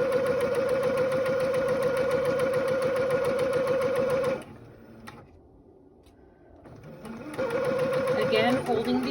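Close, fast, steady whir of a sewing machine stitching a homemade fabric face mask with elastic ear loops, stopping for a couple of seconds of near quiet with faint handling, then starting again.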